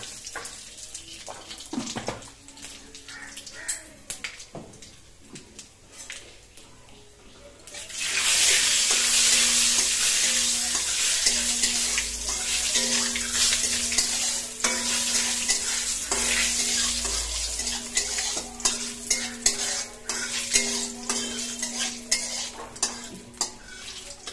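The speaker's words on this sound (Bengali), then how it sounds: "এবার তেজপাতা আর 5 ফোড়ন সম্বরা।" Bay leaf and five-spice hitting hot oil in a pan, a sudden loud sizzle that keeps crackling steadily near at hand, with spoon clinks and stirring under it, after quieter kitchen handling.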